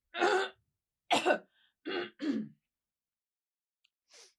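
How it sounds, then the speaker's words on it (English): A person clears their throat in several short, harsh bursts close to the mic, then a faint final rasp after a pause. "hang on, I must clear my throat."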